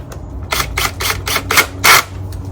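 A wrench tightens nuts while an Adirondack chair is assembled, making six or so short ratcheting rasps in a steady rhythm, close and fairly loud.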